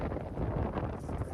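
Strong wind buffets a microphone outdoors on a farm, a brief, low, rumbling roar that swells and dips, with no voices.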